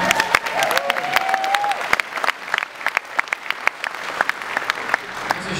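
An audience at a PAX 2011 convention panel breaks into applause, a crowd of clapping hands that starts strong and thins out into scattered, sharper claps toward the end, with a brief whistle-like tone near the start.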